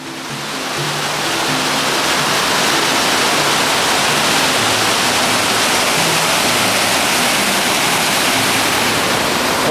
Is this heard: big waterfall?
yes